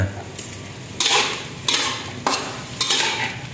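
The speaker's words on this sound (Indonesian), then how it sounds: "Wih, kita aduk ya biar rata bumbunya ya." A spatula scrapes and knocks through a chicken gizzard stir-fry with noodles in a pan, four sharp stirring strokes clattering over a quieter background sizzle, up close and with nobody speaking.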